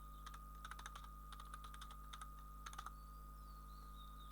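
Keys on a computer keyboard clatter in quick bursts as a Facebook URL is typed, several short runs of close, crisp clicks separated by brief pauses over a quiet room hum.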